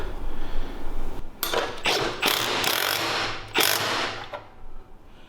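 A ratchet tightens support bolts and the axle nut on a 105cc mini bike, heard as several loud, close bursts of rapid clicking separated by brief pauses. No one speaks.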